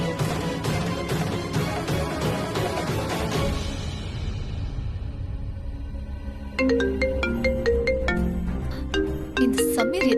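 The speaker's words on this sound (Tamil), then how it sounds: "இந்த சமீர் எதுக்கு ஃபோன் பண்றான்?" A phone ringtone chimes from about six seconds in, a repeating melodic tone pattern that follows music and rises loud and clear near the end, in a Tamil TV serial scene.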